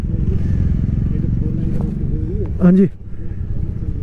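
A motorcycle engine idles and putters on a mountain ride in Himachal while the rider looks for parking, a steady low rumble throughout with people talking over it and a short rise near the end.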